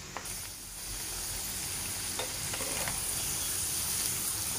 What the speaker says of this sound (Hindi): अब इसको यहाँ पर हमें फ्राई करना है जब तक ये क्रिस्पी नहीं हो जाते